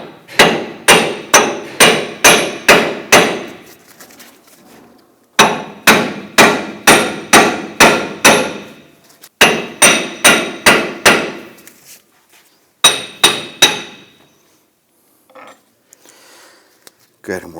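A hammer pounding a 2006-2010 Hummer H3 front wheel hub to drive it off the axle splines: four bursts of rapid, loud, close metallic blows, about six or seven strikes each, with pauses between.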